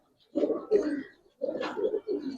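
A silver Giribaz pigeon coos close by in two short, throaty bursts separated by a brief pause, each made of rolling low notes.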